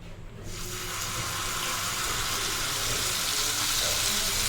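Ground coconut paste hits hot ghee in a pan: after a brief quieter moment, a loud, dense sizzle swells up and holds steady close by.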